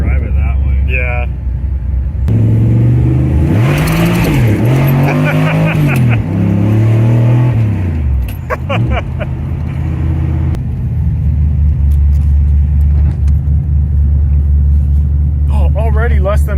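A V8-swapped Pontiac Fiero with freshly finished suspension and brakes idling, then revving and accelerating hard with rising and falling engine pitch through the gears, heard up close from inside the car, then settling back to a loud idle rumble, with people talking at times.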